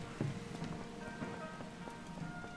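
Quiet, steady rain in The Legend of Zelda: Tears of the Kingdom patters on a surface, with scattered individual drops ticking through the soft hiss.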